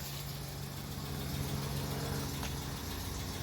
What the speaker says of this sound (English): So this is the before. Again, it's a 75 Suzuki GT550.